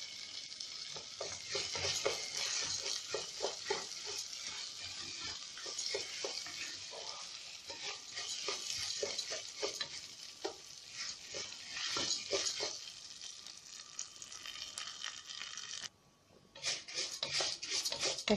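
Rice frying in butter sizzles steadily in a pan, with repeated scraping strokes as a spoon stirs it, fairly quiet and close, with a brief pause near the end.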